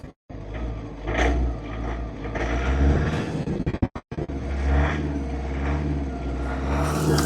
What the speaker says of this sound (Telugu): ఇంజిన్ స్టార్ట్ చేశాను రేస్ చేస్తున్నాను